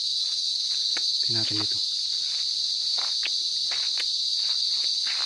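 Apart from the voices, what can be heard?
insects buzzing on a farm lot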